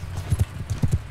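Horse hooves in the video game Bannerlord: a quick run of rhythmic clip-clop hoof beats at a gallop, close and distinct, in pairs over about a second.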